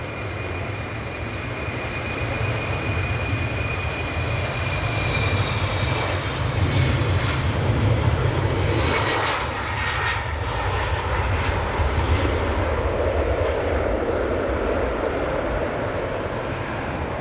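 A CityFlyer airliner takes off at Edinburgh Airport, its engines giving a loud, steady roar that swells and holds throughout with no talk over it.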